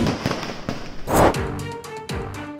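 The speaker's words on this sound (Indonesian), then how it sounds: "Alhasil sejumlah ledakan dan semburan kembang api memenuhi lokasi kebakaran" Fireworks and firecrackers burst from a burning firecracker kiosk in Tana Toraja, a quick irregular series of loud, close pops and crackles with one bigger hissing blast in the middle.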